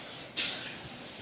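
A spray gun applying clear coat to a car hood lets out a sudden steady airy hiss that starts abruptly and continues evenly, close and alone with no talk.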